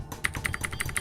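Keys on a DREVO Gramr 84-key backlit mechanical keyboard clack in a quick run of about eight crisp, evenly spaced presses, close and fairly quiet, with no talking.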